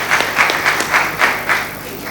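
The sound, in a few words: applause for the sister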